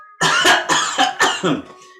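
A person gives a string of several harsh, close coughs in quick succession, fading toward the end.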